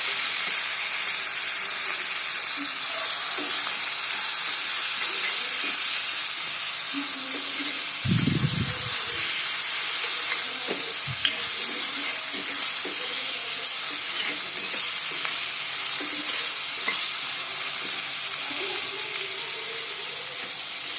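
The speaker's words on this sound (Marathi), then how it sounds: "आता हे चांगले भाजू देते टोमॅटो" A constant hiss and sizzle of tomatoes frying in a pan for chutney, with a brief clatter or stir partway through; no talking.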